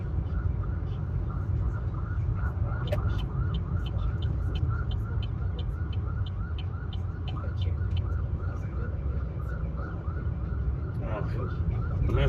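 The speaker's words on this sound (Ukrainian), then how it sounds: "позаду їде ця швидка допомога" Ambulance siren from an ambulance driving behind on a city street, a steady repeating wail sitting over constant road and engine rumble, moderately loud and continuous throughout.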